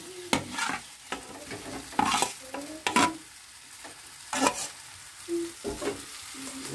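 Fried cauliflower and potato pieces tipped into cooked masala in a pan and stirred, with repeated sharp scraping clatters of the spoon over a continuous gentle sizzle, close by.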